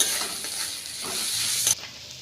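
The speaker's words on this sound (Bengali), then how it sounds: "এই পেঁয়াজের সাথে ভাজা করে নেব" Crushed garlic and raw onion frying together in oil in a pan, a steady close sizzle with a few soft stirring scrapes that ends abruptly and drops to a quieter hiss.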